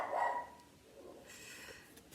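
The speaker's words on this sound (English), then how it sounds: "let me go see what she's barking about." A dog barking indoors, heard faintly from a distance as a single short, muffled bark, followed by quiet room sound.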